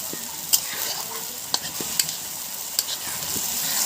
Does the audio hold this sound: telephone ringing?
no